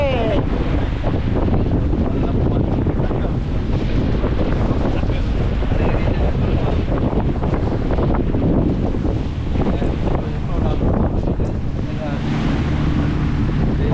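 Steady wind buffets the microphone throughout at Malon in bad weather, a constant rough roar with water and surf noise underneath and faint voices mixed in.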